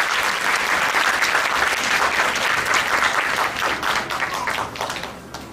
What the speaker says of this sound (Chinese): 那我们再给管乐二团学生最热烈的掌声！